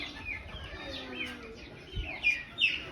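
Newly hatched chicks chirp in a small group, thin high peeps coming in scattered bursts, loudest toward the end, over a low background murmur.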